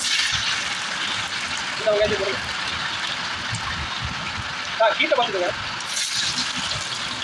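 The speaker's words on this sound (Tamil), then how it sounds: "இப்போ தாளிப்பு ஜாமான் நல்லா சூடாகி வரப்போகும்போது வெள்ளை பூண்டு சேர்த்துக்க போகிறோம்." Garlic and tempering spices sizzle in hot oil while Tamil fish curry is cooked, giving a steady hiss with brief crackling bursts under continuous talking.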